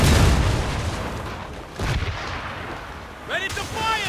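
Ship cannon fire in Assassin's Creed Rogue during a naval battle, a heavy boom at the start and another thud near two seconds, with shouted crew voices and game sounds following.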